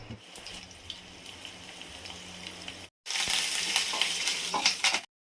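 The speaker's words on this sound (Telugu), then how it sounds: "గోంగూర పచ్చడిలోకి పోపు పెట్టుకుంటున్నానండి." Hot oil sizzles and crackles steadily as a tempering for gongura chutney is fried, a brief pause cutting it before a louder, busier burst of frying follows close by.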